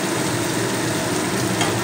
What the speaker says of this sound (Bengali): আলুগুলো দিয়ে মশলার সঙ্গে একটু সময় নাড়াচাড়া করে নেব।